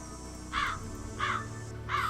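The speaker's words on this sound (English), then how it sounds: "Okay, I hear birds." Three harsh crow caws repeat at an even pace over a faint, low ambient hum in Nancy Drew: Ghost Dogs of Moon Lake, with no talking.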